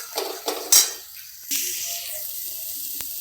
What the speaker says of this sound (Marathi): आता थोडंसं तेल टाकायचं आणि याला चांगलं परतून परतून घ्यायचं